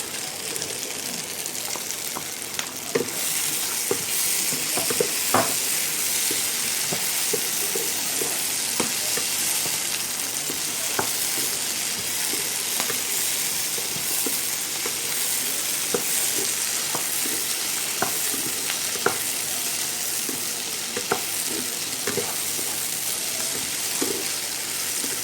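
Pieces of fried chicken are tossed into a hot pan and stirred for chilli chicken, making a continuous loud sizzle with a scatter of spatula scrapes and small knocks throughout and no one talking.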